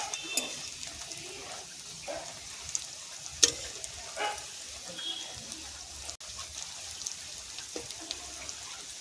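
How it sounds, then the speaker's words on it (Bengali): Cauliflower chops fry gently over low heat, giving a faint, steady sizzle with occasional soft pops and crackles. "আস্তে আস্তে জাল দেবো, উনুনে ধিমে আঁচে ভাজবো।"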